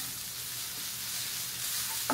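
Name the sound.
stirring ginger-garlic-coriander paste frying in a pan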